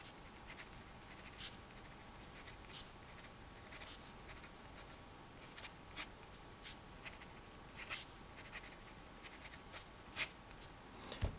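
A fine, fairly hard nib on a Luoshi cigarette-style fountain pen writes on paper, giving a quiet, steady scratching with soft strokes and light taps at irregular intervals.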